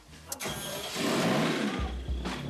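A blue Renault Gordini's engine cranks and catches, then runs with a steady, rough mid-pitched rumble close by.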